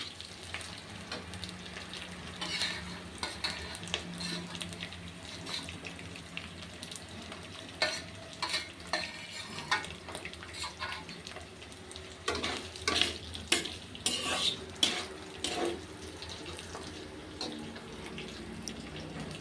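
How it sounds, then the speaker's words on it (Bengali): Potatoes fry in a pan while being stirred, a steady close sizzle broken by bursts of scraping spatula strokes that grow busier toward the end, with no one speaking. "আলুগুলো নাড়াচাড়া করে নিন।"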